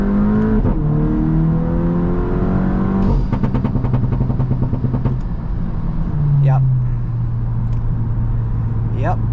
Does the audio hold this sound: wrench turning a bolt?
no